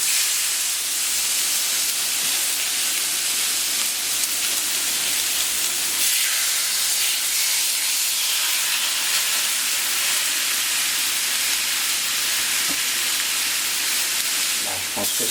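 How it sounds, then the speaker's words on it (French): Loud, constant sizzling hiss of hanger steak frying on a hot plancha griddle, steady throughout with faint clinks near the end. "on entend que ça grésille"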